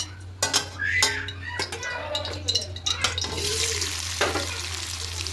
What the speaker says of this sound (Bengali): তা তেলের মধ্যে প্রথমে আলুগুলো একটু হালকা লাল করে ভেজে নেব